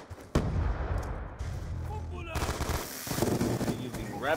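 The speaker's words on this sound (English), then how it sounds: "He's using rapid fire with a silencer." Suppressed rapid-fire gunfire in Call of Duty: Ghosts, a silenced automatic weapon firing quick bursts amid game effects, with a talking voice heard over parts of it.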